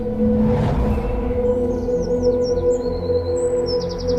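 Black kites call over Mehrangarh hill in Jodhpur, high thin whistling trills and chirps in the second half above a loud, steady low drone.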